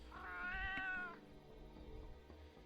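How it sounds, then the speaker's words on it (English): A cat meows in the Neverwinter video game, one clear, drawn-out mew near the start, followed by quiet background sounds and no talk. "Ah, it's a cat. Look at him."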